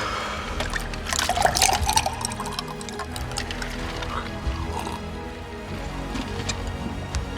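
Water pouring and trickling into a cup or glass at a hot wing tasting table, a continuous splashing liquid sound lasting several seconds, close and fairly loud, with faint voices in the background.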